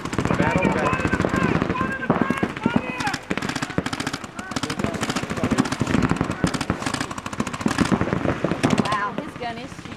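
Paintball gun firing rapid strings of shots during a three-man tournament at an outdoor field, loud sharp pops in dense bursts that run nearly continuously, with people shouting and talking over the shooting.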